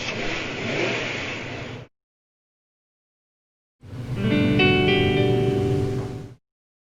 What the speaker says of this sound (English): when you long press and go into gaming mode, apparently you hear a car starting up and revving